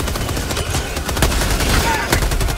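Sustained gunfire from weapons in Helldivers 2, with dense rapid automatic bursts and sharp shots filling the whole stretch at steady loudness, a few louder cracks standing out.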